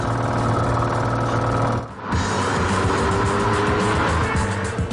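A Maserati car engine roars loudly and steadily close by, revving with a harmonic drone that briefly drops out before surging back.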